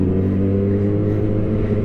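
A 2020 Kawasaki ZX6R inline-four motorcycle engine drones loudly and steadily close by, a sustained rich humming tone without clear rises or breaks.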